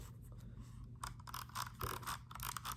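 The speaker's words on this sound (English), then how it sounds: "you have this scroll wheel." Rapid, ratcheting clicks from a Razer gaming mouse scroll wheel being spun, a dense run of small ticks close by with no talking.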